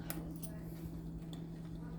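Metal fork and knife scrape and tap against a plate while cutting a tender piece of cube steak in gravy, with a few faint light clinks close by and no talk.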